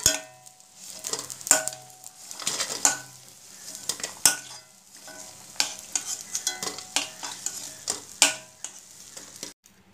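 Pakoras fry in hot oil in a pan with a continuous sizzle, punctuated by repeated sharp clinks and scrapes of a utensil stirring against the metal, close and busy.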